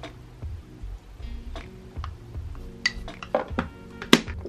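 Tempeh slices being shaken in a marinade container, giving a run of light clicks and clattering knocks with sharper ticks toward the end, over a low kitchen background.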